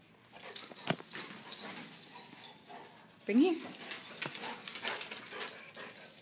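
During a game of fetch, a dog gives a brief, high whimper amid panting and movement sounds, while a person speaks close by.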